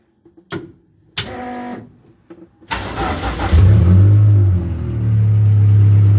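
A Dodge Daytona stock car engine cranks with a few short bursts, then catches and settles into a loud, steady, rumbling idle close by.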